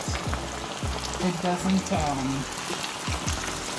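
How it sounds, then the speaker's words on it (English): Battered fish fillets fry in hot oil, a steady crackling sizzle close by that runs throughout while a person talks over it. "once you place the fish in the oil, you don't remove it, you don't move it, you don't touch it"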